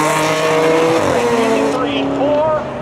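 A 1985 Ford Thunderbird races in spectator drags at Seekonk Speedway, loud engines roaring and shifting pitch with tire noise, under a commentator's voice.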